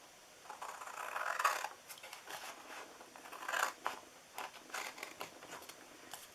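Scissors cut through paper for a handmade treat box. Close, soft snips and rustling slices come in short bursts with small pauses between them, fairly quiet in a still room.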